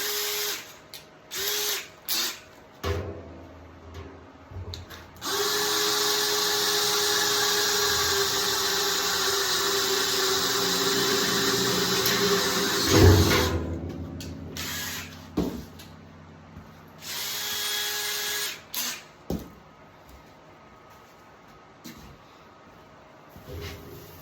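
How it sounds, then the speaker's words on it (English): A few short drill blips, then a long sustained high-pitched run of a power drill with a larger bit opening a circle cutout for a wood stove kit, followed by scattered short bursts and clicks; close, no speech. "I'll get my larger drill bit so I can get my blade in there."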